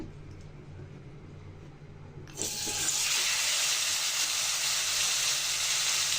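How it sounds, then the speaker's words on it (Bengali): Fish for tandoori fish goes into hot oil in a kadai on a gas stove, setting off a sudden loud, steady, hissing sizzle that keeps going after a quiet start. "তখন আমি মাছটা দিয়ে দিব তেলটা গরম হয়ে গেছে"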